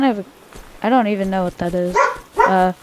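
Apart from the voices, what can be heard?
dog barking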